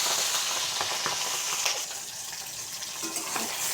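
Shrimp drop into hot oil with five-spice tempering and ginger, giving a steady broadband sizzle with a few faint clinks of a utensil, no voices.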